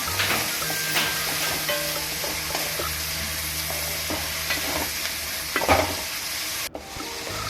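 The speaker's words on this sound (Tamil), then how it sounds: "தக்காளியை நல்லா வணக்கி விட்டுடலாம்" Tomatoes and onions with salt sautéing in a pan for a dried anchovy curry: a dense, continuous close sizzle with occasional stirring scrapes and pops, cutting off abruptly near the end.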